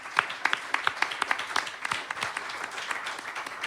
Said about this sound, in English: please give me a round of applause for Janice from My Anchor